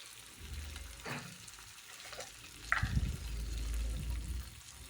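Green peas with spices fry in a pan for matar kachori filling, a quiet, close sizzle with a few light scraping stirs and a soft clunk midway.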